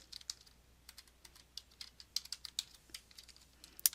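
Someone types on a computer keyboard while coding HTML, producing soft, close, irregular key clicks in quick little runs, quiet and with no talking.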